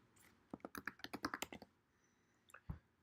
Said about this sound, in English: I'm pressing Alt space and then I start typing active plugins.